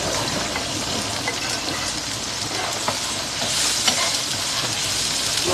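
Garlic and onion sautéing in olive oil for sinigang na buto-buto, a loud, dense, continuous sizzle and hiss heard close up with faint stirring.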